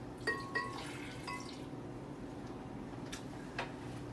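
Alagaw juice poured into a glass gives a few faint, brief drips and splashes, with quiet stretches between them and a steady low background hum.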